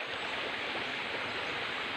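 Spring water flows down from the mountain into a natural spring pool, making a steady, fairly faint rushing and burbling wash without any voices.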